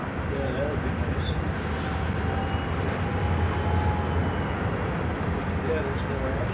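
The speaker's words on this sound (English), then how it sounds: "He's pulling a train." A Union Pacific locomotive pulls a train at Bailey Yard in North Platte, Nebraska, making a steady, fairly distant rumble that runs through the whole stretch, with faint voices at times.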